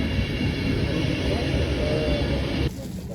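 Steady low rumble and broadband rush of a moving passenger train heard from inside the carriage, constant and fairly loud, with faint murmuring voices; the noise drops abruptly near the end.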